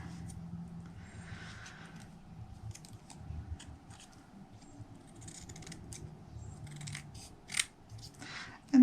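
Scissors snip through paper in a crafting project, giving a close, quiet run of repeated cuts that grows denser toward the end.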